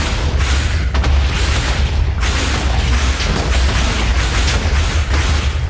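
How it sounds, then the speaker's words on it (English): Rapid gunshots fired in a video game, loud repeated booming bursts at an uneven rhythm over a dense continuous background roar, with no speech. "Now I can just take pop shots at him all day long"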